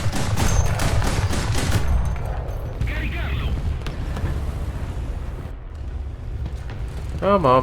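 Rapid bursts of autocannon fire from an L6/40 light tank firing APIT rounds in War Thunder, loud dense shots at first, then rumbling impacts and battle noise, with someone speaking briefly.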